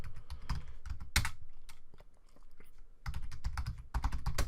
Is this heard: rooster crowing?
no